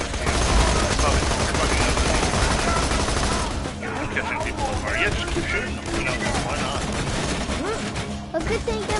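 Sustained loud gunfire in the video game Borderlands 2, dense rapid bursts and volleys running throughout, with voices talking over the shooting.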